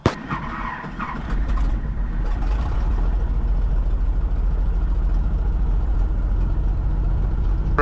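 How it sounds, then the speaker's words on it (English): North American Navion aircraft piston engine catches after a brief cranking stutter, then settles into a loud, steady, close rumbling run. "Engine's running, oil pressure's coming up."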